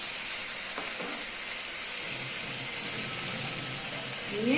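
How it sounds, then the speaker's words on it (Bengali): Pointed gourd (patol) pieces sizzle steadily in a hot pan while being stirred, a continuous close frying hiss with soft scraping of the spoon throughout. "এবার আমি এইভাবে একটু নেড়ে চেড়ে নিচ্ছি।"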